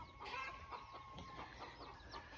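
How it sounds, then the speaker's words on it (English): A rooster gives a rapid run of soft, repeated clucks, faint and close, with no talk over it. "Now that's actually a rooster, but hens will do the same thing."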